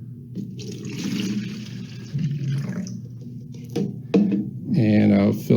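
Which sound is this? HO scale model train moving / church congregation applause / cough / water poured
water poured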